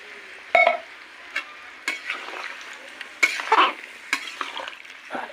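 Water added to desi chicken and potato curry frying in a pan, with a sizzling hiss broken by several sharp bursts of crackle and clinks of a utensil against the pan, close and alone.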